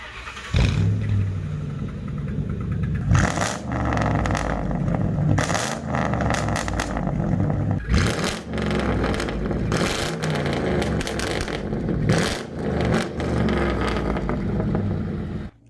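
A Ford Crown Victoria fitted with a straight-pipe exhaust and no muffler revs hard and loud, close by, in repeated throttle blips that rise and fall over a steady rumbling idle.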